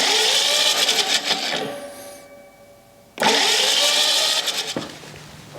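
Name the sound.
old engine cranked over with spark plugs out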